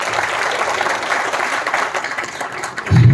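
Audience applause at a motivational talk, a dense steady wash of clapping throughout that swells louder near the end, with no voices over it.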